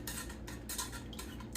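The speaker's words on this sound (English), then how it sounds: "I'll just stir it" Melting candle wax is stirred in a container, giving faint, close scraping and light tapping in a soft, steady rhythm with no voices.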